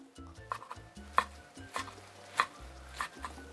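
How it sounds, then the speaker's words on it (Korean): A knife cuts through soaked dried seaweed for beef seaweed soup, landing as a series of close, soft knocks on a board about every half second, with faint kitchen clatter between the cuts. "미역은 적당한 크기로 썰어주세요."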